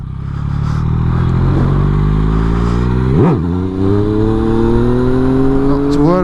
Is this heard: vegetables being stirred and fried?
no